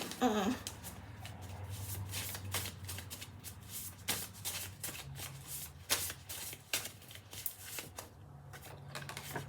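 Tarot cards shuffle in repeated crisp riffling bursts and flutters, close and clear, with a person speaking softly between the shuffles.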